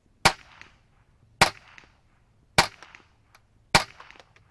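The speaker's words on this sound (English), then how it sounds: "I can tell you the single shot in a 10-22, folks, that's no fun." Four evenly spaced, sharp, close shots from a 10/22 rifle loaded with CCI Quiet Segmented .22 rounds, each a short crack that fades quickly, separated by near silence.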